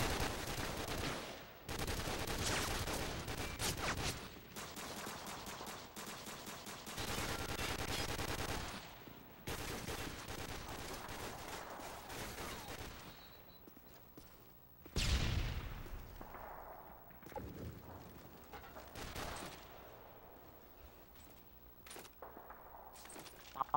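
Sustained bursts of automatic gunfire as soldiers fire back in the Modern Warfare 2 video game, loud and dense, with heavy volleys broken by short pauses and a sharp blast near the middle.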